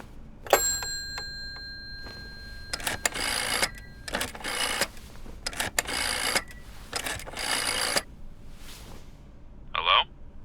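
An old telephone is handled and dialed in the Layers of Fear remake: a brief steady tone, then a series of mechanical whirring and clicking bursts, a pause, and a short ringing chirp at the end.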